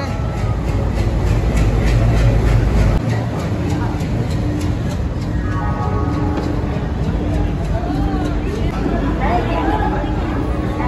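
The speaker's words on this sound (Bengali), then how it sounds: "ট্রেন চলে এসছে।" A train pulls into a busy station with a heavy low rumble and rolling clatter, and a rising tonal whine mid-way, while a crowd murmurs and voices talk over it.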